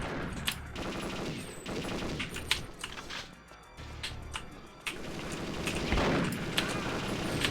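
Video-game gunfire: volleys of rapid shots and bursts, some sharp and near, others quieter, with a few louder cracks and no clear speech.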